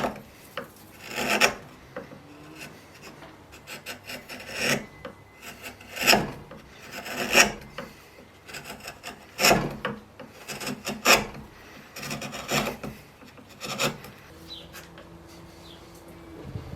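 A rasp files down a wooden walking stick handle so a brass fitting will slip on, rough scraping strokes coming in irregular bursts with short pauses, close and fairly loud with no talk.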